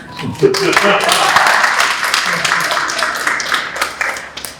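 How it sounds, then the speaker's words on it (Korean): An audience at an artist talk for a contemporary art exhibition in Busan claps loudly and unevenly while voices speak over and between the clapping. "박수 한 번 다시"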